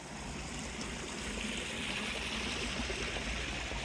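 A small brook runs down alongside a road, giving a steady, close rushing and trickling of water that holds even throughout with no talk over it.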